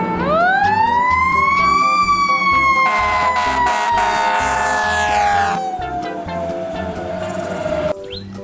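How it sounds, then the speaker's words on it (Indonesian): A toy fire truck siren wails loudly and up close, rising and then sliding slowly downward in a single long electronic tone with bright harmonics, fading slightly at the end. "Yang ini ada mobil pemadam kebakaran."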